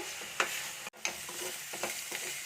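Ginger and spices sauté in a pan for chickpea curry, a gentle sizzle with a few soft spoon scrapes and one brief dropout, close by and quiet, with no speech.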